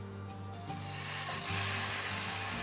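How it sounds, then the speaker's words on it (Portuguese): Fish frying in a preheated frying pan, a steady close sizzle with soft crackling throughout, no voices. "Eu tenho aqui uma frigideira que eu já deixei aquecendo."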